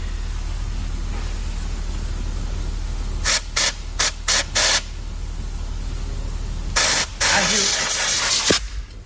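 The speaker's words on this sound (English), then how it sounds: "once he pressurizes, the smoke should come out freely, or you should hear like air coming through freely from the EGR cooler side" Air hissing steadily from a pressurized exhaust pipe on a Mazda Skyactiv during a smoke test, a continuous close broadband rush with short louder bursts partway through.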